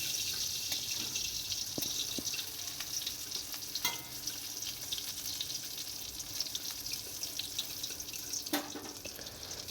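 Eggplant slices fry in a pan of hot oil with a steady broadband sizzle, the crackle continuing evenly throughout with a few brief clinks of utensils and no talking.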